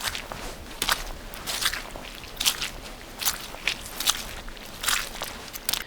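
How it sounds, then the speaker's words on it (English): Game sound design for a rain scene: a character's footsteps squelching through wet mud, about a dozen soft sloshing steps at a steady walking pace, fairly close and even in loudness. "We're sloshing in the mud."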